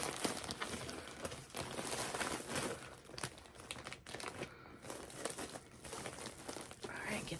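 Soft, steady crinkling of a plastic mailer bag as air is pressed out before sealing, close and fairly quiet, with a voice talking over parts of it.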